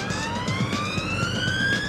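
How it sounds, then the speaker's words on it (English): A police car siren wails in rising and falling tones during a pursuit of a driver refusing to stop, loud and continuous with a low engine rumble beneath. "As the sirens fire up,"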